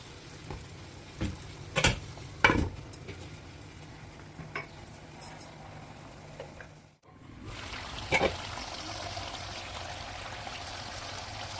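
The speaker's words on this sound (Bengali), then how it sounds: "আমি এখন পরিমাণ মতো ঝোল দেব" Liquid gravy is poured over fried white croaker fish in a hot pan, giving a steady sizzle and bubbling with a few clinks of a utensil, close and alone with no talk.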